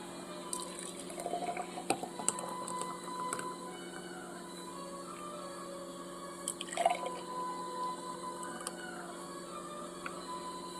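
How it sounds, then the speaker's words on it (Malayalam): Jackfruit shake is poured from a blender jar into a glass: faint liquid trickling and dripping with a few soft splashes and clinks, quiet and close, with no speech over it. "നമ്മൾ ഇതിനകത്തോട്ട് ഒഴിക്കുകയാണ്."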